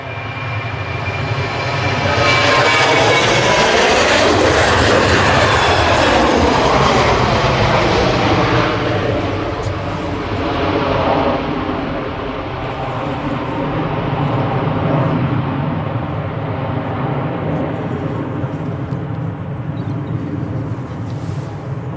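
A Jet2 airliner takes off from runway 23L at Manchester Airport in the early morning: a loud, sustained jet roar whose whine sweeps in pitch as it passes close by, then fades into a lingering rumble.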